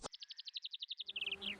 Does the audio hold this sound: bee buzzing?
yes